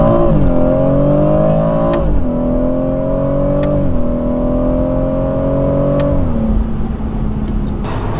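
A BMW M140i xDrive accelerates hard from inside the cabin, its engine note climbing steadily through several gears, with brief dips at each shift, loud and continuous.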